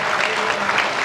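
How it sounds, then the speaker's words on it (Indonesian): Applause from students in a television studio audience at an Indonesian election talk show, a steady dense clatter of many hands clapping without a break, close and fairly loud. "tepuk tangan untuk semua teman-teman mahasiswa yang juga sudah hadir"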